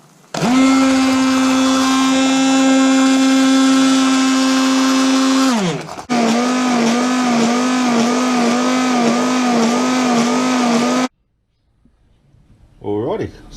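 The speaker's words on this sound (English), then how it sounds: "I've got my immersion stick blender thing. And I'm just going to give those a bit of a whirl." A handheld immersion stick blender whirs through blackberry and juniper sauce, a loud steady motor whine that dips, restarts with a wobbling pitch, then cuts off abruptly, followed by a short scrape.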